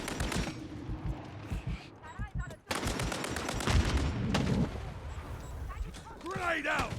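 Automatic and single gunfire in Modern Warfare 3 on the Rust map during a Domination match, with dense bursts of shots close by and further off, broken by a short gap and mixed with in-game voice callouts.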